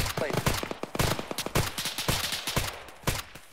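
Rapid, close gunfire bursts crackle as automatic suppressing fire in the military shooter Arma on Sahrani. Sharp shots come in dense, uneven strings, with a voice in the background.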